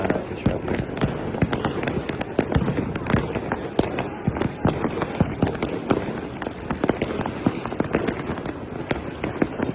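Fireworks burst across the sky in dense, rapid crackling volleys, a continuous barrage of sharp pops and bangs with no pause.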